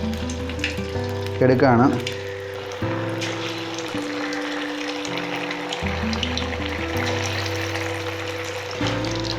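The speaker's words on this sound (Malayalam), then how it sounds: "അപ്പോൾ നമ്മൾ വറുത്ത് കോരാനുള്ള സെറ്റപ്പിൽ ഇട്ടുകൊണ്ടിരിക്കുകയാണ്." Chicken pieces deep frying in oil for restaurant-style chilli chicken make a loud, continuous bubbling sizzle close by. Steady background tones run underneath, and a voice briefly speaks.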